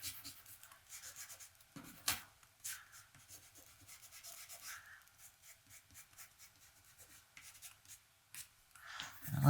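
Charcoal and watercolour worked across textured watercolour paper, giving soft close scratchy rubs and strokes in a continuous quiet rhythm, with a few sharper scrapes and a louder brushing burst at the end.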